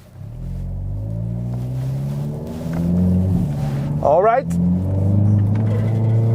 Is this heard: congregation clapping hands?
no